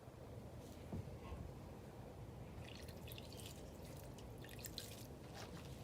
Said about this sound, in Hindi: पहले थोड़ा सा पानी डालेंगे,